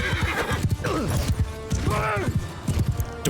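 A horse neighs loudly, twice in quick succession, in the medieval combat game Mount & Blade II: Bannerlord. Rapid hoofbeats and battle noise run underneath, and a voice talks over it.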